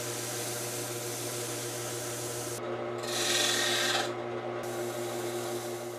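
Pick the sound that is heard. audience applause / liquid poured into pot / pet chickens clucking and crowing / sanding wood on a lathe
sanding wood on a lathe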